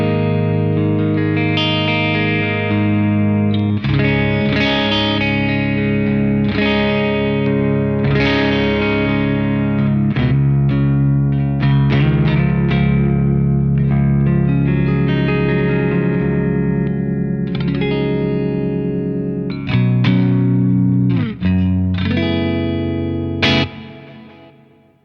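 An electric guitar plays through a Friedman Twin Sister amp with a slightly driven clean tone, chords and notes ringing out with ambient effects and sustain.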